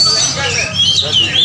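An oriental magpie-robin (kacer) sings at a songbird contest, its bright, whistled phrases sliding up and down continuously over a murmur of crowd chatter and background voices.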